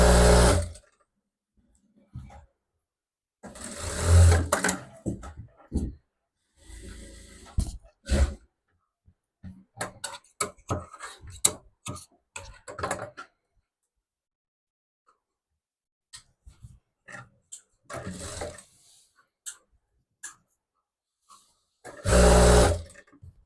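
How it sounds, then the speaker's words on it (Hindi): A tailor's sewing machine stitches a folded seam on a small girl's frock, running in several separate loud bursts of rapid clatter between quiet pauses and faint handling noises. "ऐसा फोल्डिंग करके एक सिलाई लगा देता हूँ"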